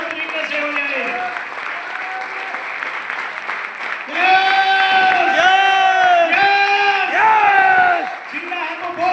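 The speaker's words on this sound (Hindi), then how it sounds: "तालियां जबरदस्त तरीके से हो जाए।" A crowd at a speech event for a leader breaks into applause and loud cheering, with sustained shouted chanting and whoops rising over steady clapping, surging louder midway before easing off.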